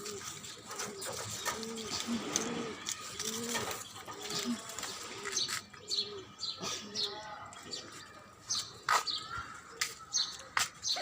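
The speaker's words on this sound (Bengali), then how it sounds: "এদিকে ঘুঘু পাখি" A dove near a rooftop garden coos in a repeated, rhythmic series of low soft calls, fairly close, while small birds chirp and a person talks over the later part.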